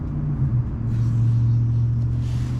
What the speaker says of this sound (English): As you can hear the multiple cars around us